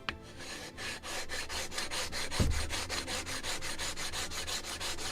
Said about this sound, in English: make it definitely straight and flat surface, better to use some sanding blocks.